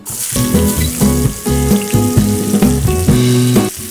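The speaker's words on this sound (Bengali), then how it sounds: "তেলটা গরম হয়ে গেছে পটলগুলো দিয়ে দিচ্ছি" Pointed gourd slices frying in about half a cup of hot oil in a pan, a steady bright sizzle running for the whole stretch beneath a loud melodic music track.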